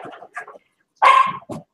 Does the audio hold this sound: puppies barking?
yes